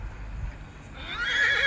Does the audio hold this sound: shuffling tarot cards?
no